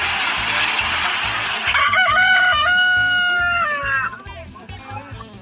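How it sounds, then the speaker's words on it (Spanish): A rooster crows loudly and close by on a farm, one long rising and falling cock-a-doodle-doo over a rhythmic background beat. "Eso fue un rooster, o en español conocido como un gallo."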